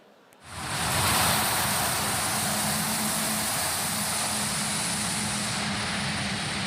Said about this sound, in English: So what you see here is a quick takeoff, vertical takeoff, transiting to horizontal flight.